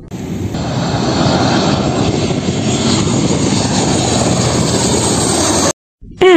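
An aeroplane landing, a loud, steady broadband engine roar that holds at full strength for several seconds before cutting off abruptly near the end.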